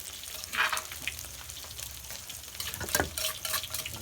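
Sun-dried fish frying crisp in hot oil, a steady close sizzle with crackling pops and a few louder bubbling bursts, no voices.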